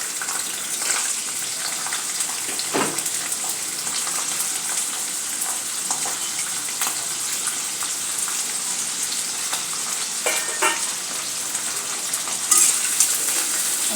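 Baby corn, beans, peas and cauliflower fry in a pan for a restaurant-style kurma bhaji, giving a steady, dense sizzling hiss throughout with a few faint stirring clicks and no voices.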